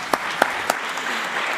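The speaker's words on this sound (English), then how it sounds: "Round of applause." A few sharp, separate hand claps ring out from an audience at a national youth forum on corruption in Kenya. They are spaced out over a steady, noisy room background.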